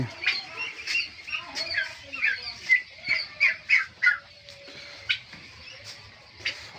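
Japanese quail kept at a poultry market call in a run of short, sharp squawking chirps, fairly close and repeated in quick bursts, with faint background murmur.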